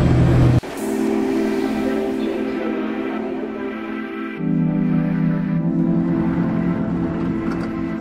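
A SkyTrain metro train heard from on board while riding toward a station, with a steady loud rumble of wheels and motor running throughout, tonal hum shifting as the train changes speed.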